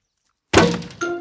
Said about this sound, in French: Qui se permet de lancer des ballons sur ma serre?